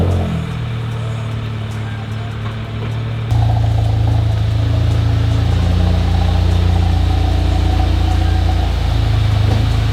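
Subaru STI with an EJ25 engine running steadily with a loud, dominant turbo, a constant mechanical drone that steps up louder after about three seconds and holds there.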